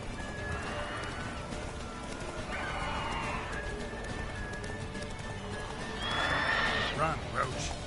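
Roach the horse in The Witcher 3 gallops with rhythmic clip-clop hoofbeats and lets out shrill whinnies, the neighs rising near the end over a game soundscape.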